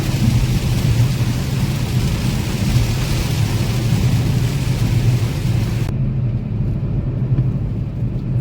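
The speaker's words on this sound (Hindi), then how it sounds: "ऐसी विंड स्क्रीन पे ऊपर जाती हुई बूंदे कितनी सही लगती है ना।" Light rain patters on the windscreen of a car driving through a brief monsoon shower on a road in Maharashtra, under a steady low road rumble; partway through, the hiss drops off sharply and only the engine and road noise continue.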